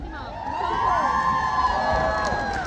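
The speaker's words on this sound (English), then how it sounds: "this side is gonna take your picture and cheer on the count of 1" Crowd at a Comic Con Holland cosplay catwalk in the Brabanthallen cheering and whooping together, a loud sustained roar of mixed voices with high shouts rising and falling across the hall.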